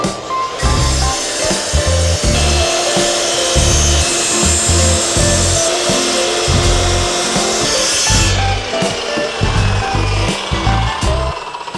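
A saw cuts through wood pieces for shelf supports in a rapid rhythmic back-and-forth rasp, loud and close, with a short pause partway through before the strokes resume.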